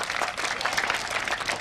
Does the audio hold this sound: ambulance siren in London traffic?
no